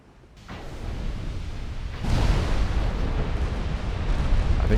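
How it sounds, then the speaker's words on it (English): Warship secondary guns firing in the naval game Ultimate Admiral: Dreadnoughts, a dense rumbling barrage of booms that swells sharply about halfway through and keeps rolling loudly without pause. "I want to have this one firing its secondary armament"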